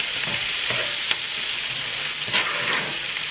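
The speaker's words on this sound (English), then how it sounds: "we're gonna let that saute for a few minutes" Food sautés in a hot pan with a loud, continuous sizzle close by, broken by a few brief stirring scrapes and no voices.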